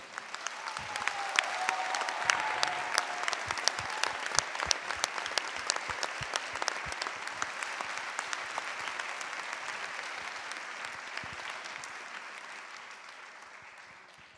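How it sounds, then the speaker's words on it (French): Audience at a regional presentation meeting applauding, a sustained crisp wash of many hands clapping, swelling early and holding steady before slowly thinning toward the end. "on peut quand même applaudir le Goa qui s'est quand même investi"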